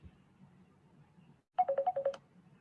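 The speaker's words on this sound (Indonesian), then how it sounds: "ada telepon ya" Office telephone ringing: after a brief pause, a close burst of rapid electronic warbling tones lasting about half a second, over a faint low background hum.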